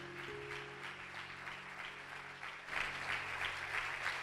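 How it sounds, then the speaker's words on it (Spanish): A church congregation claps steadily and warmly, a continuous wash of applause that swells a little louder partway through, with a faint sustained musical tone underneath. "Dale un aplauso bien fuerte al Señor."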